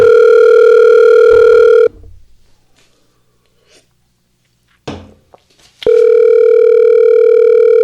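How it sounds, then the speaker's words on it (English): A telephone call's dialing tone rings out as a loud, steady electronic tone, breaks off for a few seconds of near silence with a faint breath and rustle, then resumes just as steadily. "Calling Nels Bumra right now"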